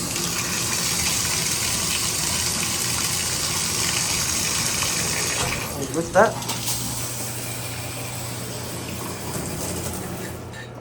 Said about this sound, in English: I'm gonna go ahead and test out the shower.